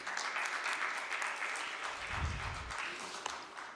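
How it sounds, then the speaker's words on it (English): Applause for a speaker being welcomed onto the dais at a conference on implementing India's development, a steady crowd clapping that holds throughout at moderate level, with a brief low rumble midway. "I would like to welcome ma'am on the dais with a round of applause"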